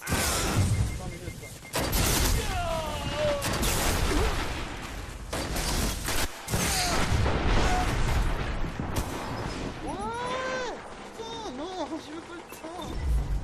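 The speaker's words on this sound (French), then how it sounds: "j'ai lancé ma grenade" Gunfire, booms and a grenade blast from the sci-fi shooter video game Destiny, with dense, loud bursts of shots and explosions running throughout, layered with whooshing effects and someone talking over the action.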